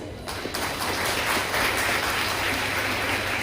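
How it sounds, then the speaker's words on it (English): Sustained audience applause for students at a school investiture ceremony, a dense, even patter of many hands clapping that starts abruptly and holds steady. "A big round of applause, students."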